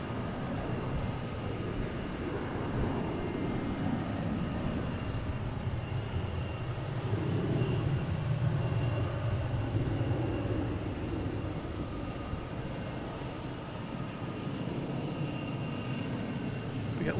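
Airliner at Boston Logan airport bound for San Francisco, a continuous broad jet engine rumble that swells slightly in the middle and stays steady, heard from a moderate distance without talk.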